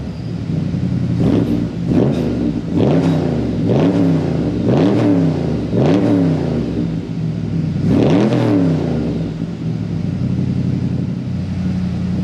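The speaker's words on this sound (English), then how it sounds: "Let's give her just a quick rev here." A 1963 Impala SS engine with Magnaflow exhaust revs repeatedly in short bursts, each swell rising and falling with a deep, rumbling exhaust, then a longer, harder rev near the end.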